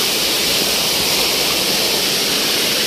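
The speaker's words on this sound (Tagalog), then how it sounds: "Napakalakas ng agos ng tubig," Strong river current rushing out of Lake Nasuli in Valencia, Bukidnon, a loud, steady broadband roar of churning water that stays constant and close throughout, with no voices.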